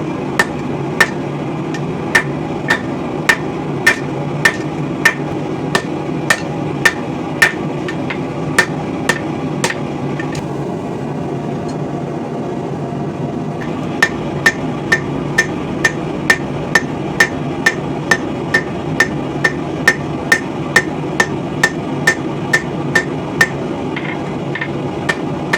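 Steady, ringing hammer blows on hot steel as a ball peen hammer is forged into a straight and cross peen hammer, dozens of evenly paced metallic strikes with a short lull partway through.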